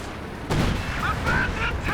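Artillery fire in the video game Company of Heroes 2 during a 2v2 battle, with a sudden heavy shell impact that leaves a rumbling, noisy tail under faint tones.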